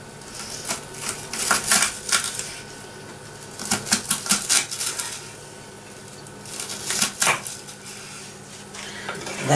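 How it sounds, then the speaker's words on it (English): A kitchen knife chops onions for Hungarian goulash, giving clusters of crisp taps against a cutting board with short pauses between them. "And now I'm going to cut the onions up."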